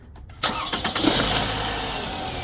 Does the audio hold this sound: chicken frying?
no